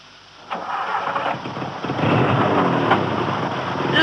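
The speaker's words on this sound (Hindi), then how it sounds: "इंजन स्टार्ट किया ही था कि फिर किसी ने ठोक दिया।" A car engine cranks and catches, then settles into a steady loud idle close by. No one speaks over it.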